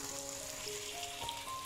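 Onion and tomatoes fry in a pan for a chicken lababdar, giving a steady, close, even sizzle with no pauses.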